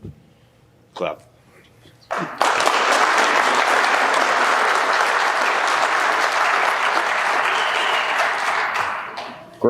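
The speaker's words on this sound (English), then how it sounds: "Clap." Sustained audience applause fills a firefighter recruit class graduation ceremony, starting after a few brief claps and scattered voices, then rising into steady, full clapping across the room.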